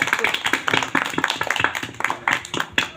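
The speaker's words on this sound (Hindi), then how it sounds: "ताली ताली ताली।" A small group claps during a Vedic yajna prayer gathering, quick uneven claps close by and fairly loud, with voices mixed in.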